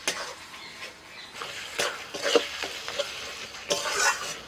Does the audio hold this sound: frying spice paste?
yes